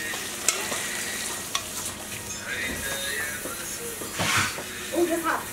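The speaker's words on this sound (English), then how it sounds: "And that's going to be allowed to fry up as well and let it mix with the spices." Sliced eggplant frying with curry spices in a Guyanese-style seven curry cooked for a religious function, a steady close sizzle and hiss with stirring scrapes, people talking faintly over it.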